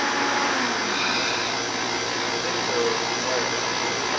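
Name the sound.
vacuum running on a robotics workcell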